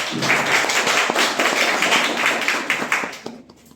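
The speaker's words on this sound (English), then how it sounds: "Please clap for her." An audience in a sales and marketing workshop for entrepreneurs claps for a participant's answer, a dense run of many hands applauding together for about three seconds before tapering off quickly.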